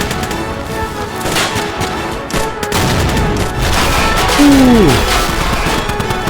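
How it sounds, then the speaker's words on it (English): A heavy machine gun fires in a toy war animation, dense rapid bursts of gunfire with cracking impacts, and a voice briefly exclaims near the end over the shooting. "And the heavy machine gun firing"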